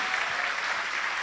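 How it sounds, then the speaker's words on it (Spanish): Congregation at a Sunday church service claps for a short moment, a soft, even patter of many hands heard at a distance. "Alguien dele un aplauso fuerte al Señor"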